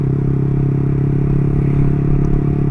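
Close and loud, the exhaust of a 2017 Yamaha R15 v3 motorcycle holds a steady, bassy, rounded idle throb without breaking up, alone with no talk.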